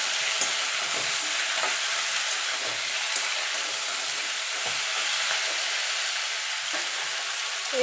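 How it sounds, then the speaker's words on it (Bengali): Drumsticks and eggplant stirred in a frying pan for a Bengali mixed vegetable curry give a steady, close sizzle with light scraping strokes of stirring throughout. "ডাঁটাটা বেগুনটা দিয়ে আরও মিনিট খানিক নাড়াচাড়া করে নেব"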